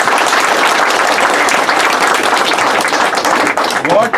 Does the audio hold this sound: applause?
yes